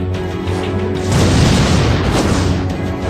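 A loud, sustained explosion on a street swells up and rumbles on for a couple of seconds, broad and heavy, with no voices over it.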